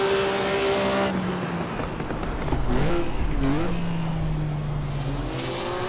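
A Maserati 250F racing engine in Assetto Corsa at Monza, revving hard toward the redline with a rising, buzzing note that drops and climbs again through quick gear changes, loud and continuous without speech.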